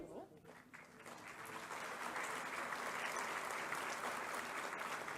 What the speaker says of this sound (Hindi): आप तालियों के माध्यम से शुभकामनाएं हमारे इन नव नियुक्त अनुदेशकों तक पहुंचाएं।